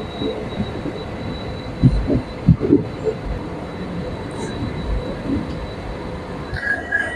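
The Guwahati-Mendipathar passenger train sits at Mendipathar station in Meghalaya, a low steady rumble with a few soft knocks and thumps and a faint high squeal near the end.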